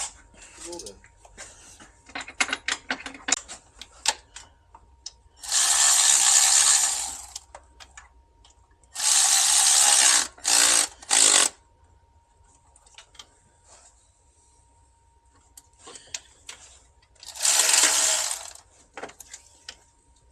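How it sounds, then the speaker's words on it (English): Ratchet wrench tightening a bolt on a BMW S55/N55 engine during a crank seal job, heard in several bursts of rapid clicking with short pauses between, plus scattered tool clatter and quiet background. "Keep tightening it in with a wrench."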